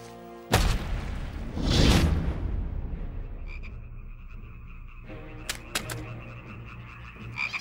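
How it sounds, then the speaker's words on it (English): Frogs croak from a river spilling across the land as a biblical plague, loud and dense croaking with sudden bursts and booms near the start, then a steadier chorus. "And frogs came up out of the river and spread over the land"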